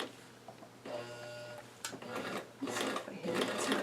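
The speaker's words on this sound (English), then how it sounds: "I sew very slowly when I get to them" Sewing machine stitching a doll's rose dress with a regular stitch, slowing over pins: a steady mechanical whir that starts after a quiet moment, then comes in bursts of rapid stitching, close and fairly loud.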